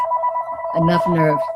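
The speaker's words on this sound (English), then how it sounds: "sorry about the phone ring" A telephone rings close and loud in a steady repeating electronic tone during a seated interview, with a person talking over it near the end.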